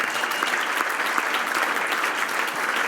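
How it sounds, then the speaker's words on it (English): Audience applause at a community awards event, a steady, dense clapping from a full room lasting throughout, with no talk over it. "So let's give all of them a hand for that."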